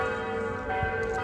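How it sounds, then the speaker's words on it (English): Church bells ring steadily with sustained, overlapping tones that hum and shimmer throughout, fairly distant and moderately loud with no talking. "The sound of those bells are beautiful"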